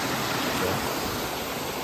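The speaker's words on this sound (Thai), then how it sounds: "มีน้ำตกให้เราได้แช่ด้วยนะทุกคน" A waterfall at a campsite at Rai Ya Yaem in Kanchanaburi, above the Srinagarind Dam, running murky after overnight rain, gives a steady, close, full rushing roar that holds evenly throughout with no voices.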